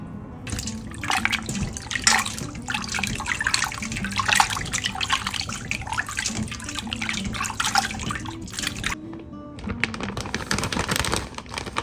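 Tap water runs steadily for several seconds while kohada fish is rinsed in a sushi kitchen, a continuous close splashing with brief breaks near the end.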